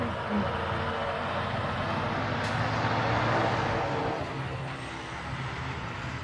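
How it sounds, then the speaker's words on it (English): A noisy truck rolls past outdoors, a broad rumbling roar that swells through the middle and fades toward the end, with a brief hiss like an air brake early on. "I'm gonna wait for the noisy truck to go by."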